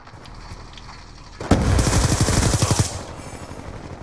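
A burst of rapid automatic fire from an MTAR rifle in a shooting video game, a loud, dense rattle lasting over a second after a quiet lead-in, then cutting off.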